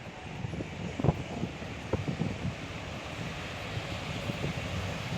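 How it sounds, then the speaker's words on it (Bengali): Sea waves wash in at Mission Bay, New Zealand, under a gusty cold wind that buffets the microphone, with a steady roar and a few louder bumps; no one speaks. "ঢেউ আর ঠান্ডা বাতাস"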